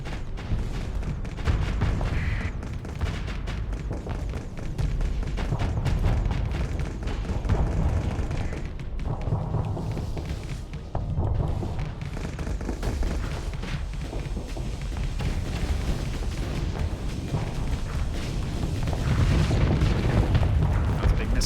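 Missile barrage explosions in Starsector, a dense rolling wall of booming blasts that keeps up loud and unbroken the whole way through.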